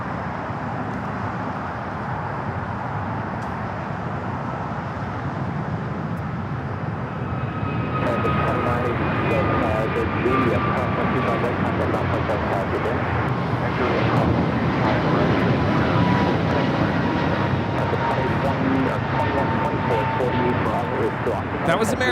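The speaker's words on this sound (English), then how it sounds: "That was American Airlines 2023 taking off to Charlotte on the A321neo" American Airlines Airbus A321neo taking off from LAX, bound for Charlotte: a broad jet engine roar builds and swells, with a tonal whine sliding through it, and a voice talks over much of it.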